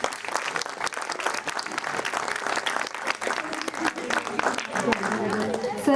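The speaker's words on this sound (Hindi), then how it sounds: "तालियों की गड़गड़ाहट बजती रहनी चाहिए।" Audience applause at a school annual day function fills the hall, sustained dense clapping from a crowd throughout, steady and fairly loud with no pause.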